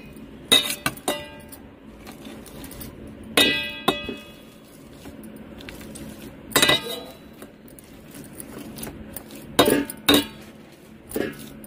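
Boiled, peeled potatoes are mashed in a metal pan, with sharp metallic clinks and clanks of the utensil striking the pan at irregular intervals, close and clear with quiet gaps between.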